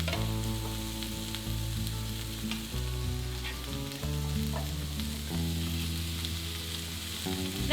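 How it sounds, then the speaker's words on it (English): Vegetables sizzle and fry on a hot griddle, a continuous crackling hiss beneath sustained, steady tones. "You can kind of hear the little bit of a sizzle here."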